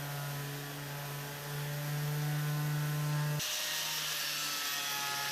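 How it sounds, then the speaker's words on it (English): A random orbit sander fitted with a soft pad smooths wood, giving a steady motor whir with a low hum and rough abrasive rasp that shifts in tone partway through. "Then I used a soft pad on my random orbit sander to smooth out the grinding marks."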